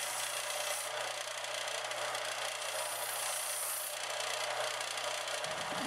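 A belt sander grinds an MDF spear tip into shape with a continuous abrasive rasp over a steady motor hum, running evenly for several seconds before cutting off near the end.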